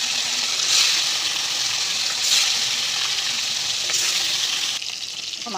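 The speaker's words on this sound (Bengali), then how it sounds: "তেলটা গরম হয়ে গেছে। এবার মাছগুলোকে এক এক করে ছেড়ে দেবো।" Fish sliding one by one into hot oil in a pan for a Bengali bhola fish curry, a loud steady sizzle with bursts of spitting as each piece goes in, close and continuous with no talk.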